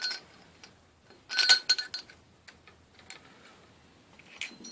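A metal spring washer being fitted onto a motorcycle fork damper rod during a fork refurbishment, giving close, light metallic clinks and ticks with a brief cluster of chiming taps and scattered quieter clicks.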